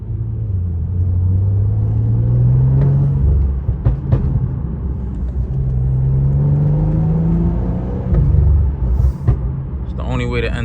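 A tuned BMW F10 pushing almost 500 horsepower accelerates onto a highway, its engine a loud steady droning rumble that rises in pitch, eases, then climbs again, heard from inside the car.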